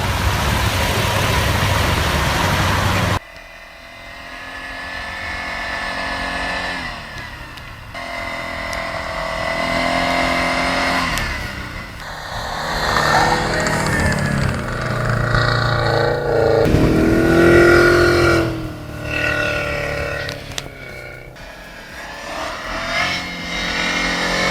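A Subaru all-wheel drive car on an icy road, its engine steadily droning and revving as it backs up and pushes forward again, loud and continuous with shifting pitch.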